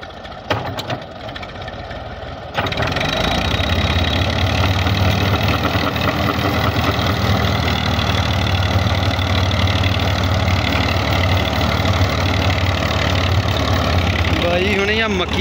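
A Massey Ferguson 135 tractor runs a 42-blade rotavator through maize stubble, its diesel engine droning steadily at close range after a brief rougher start, loud and unbroken to the end.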